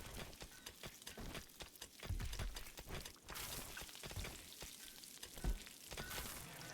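Crackling, sizzling frying from a cook working a stove in the colony-building game RimWorld, a steady bed of pops and ticks with a few louder clatters, with no talk.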